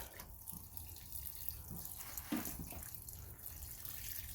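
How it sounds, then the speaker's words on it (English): Water trickling and splashing steadily, like a watering can pouring into a pot of transplanted pepper seedlings, with a few drips and soft gurgles, close by and fairly quiet. "I like to water them first time up to the top of the pot"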